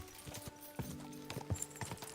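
Horse hooves clip-clop at a slow, uneven walk in Kingdom Come: Deliverance II, several distinct hoof strikes close by over a low hum, with no talk.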